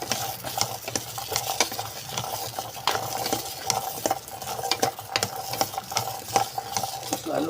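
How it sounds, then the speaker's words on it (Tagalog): Garlic fries in a pan as a spoon stirs it, giving soft repeated scrapes and clinks over a low sizzle, fairly quiet and close, with no talk. "Halu-haluin lang natin ganyan hanggang sa maluto-luto ng konti."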